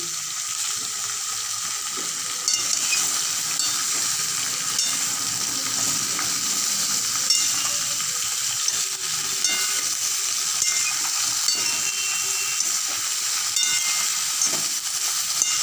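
Bottle gourd frying with salt in a kadai, giving a continuous close sizzle and bubbling hiss throughout, with occasional faint ladle scrapes and no speech.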